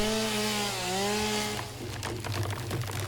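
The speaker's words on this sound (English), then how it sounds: "I am going to need to pull out my trusty dusty chainsaw and" Chainsaw cutting a tree in the video game Satisfactory: a steady, loud engine drone whose pitch glides and wavers, then breaks into a rougher, grinding rasp as the blade bites, continuous and close with no talk.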